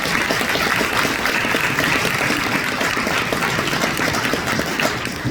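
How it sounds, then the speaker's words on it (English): An audience at a congressional town hall applauds the County Commissioner and Councilwoman, with dense, continuous clapping from many hands sustained evenly throughout. "Please give our County Commissioner and Councilwoman a round of applause."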